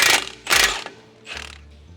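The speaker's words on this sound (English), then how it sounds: "we'll undo the tie rod nut" Ratcheting wrench work on a tie rod nut of an Iveco 4x4 during a brake upgrade: three loud, close bursts of metallic clicking and clanking with pauses between, no talk.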